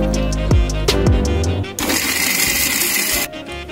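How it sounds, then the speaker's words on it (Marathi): A kitchen mixer grinder whirs loudly in short bursts as it grinds garlic, chillies, rava, coconut, peanuts and coriander for chutney, then settles into one sustained coarse grinding run that stops near the end. "हे सर्व साहित्य आपल्याला मिक्सर मध्ये बारीक करून घ्यायचं आहे"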